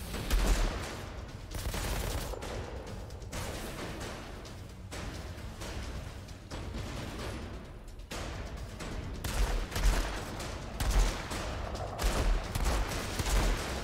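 Sustained gunfire in the Outriders video game, Technomancer expedition endgame: dense bursts of rapid shots and heavy impacts rolling continuously for over ten seconds, loud and close, with no talking.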